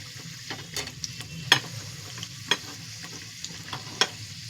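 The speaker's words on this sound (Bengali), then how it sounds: "এই দেখুন ছাকা তেলের ভাজাটা ফার্স্ট ক্লাস ভাজা হয়।" Paratha frying in a pan of hot oil gives a quiet, continuous sizzle, broken by a few sharp scraping clicks of a utensil against the pan.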